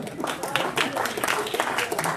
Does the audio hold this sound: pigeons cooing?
no